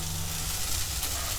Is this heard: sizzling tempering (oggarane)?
yes